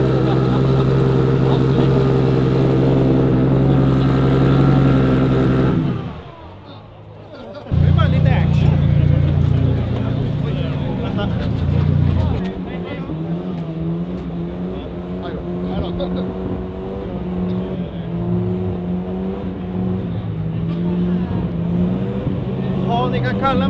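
A car engine revs hard through a tire-burning burnout show at a CD Bilvård spring car meet, loud and close, with a sudden cut, then renewed roaring throttle blips while a crowd murmurs and voices chatter underneath.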